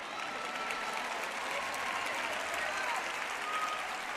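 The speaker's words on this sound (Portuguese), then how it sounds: "eu me sinto mal que você esteja batendo palmas" Steady applause from a church crowd, unbroken and fairly distant, with no clear voices over it.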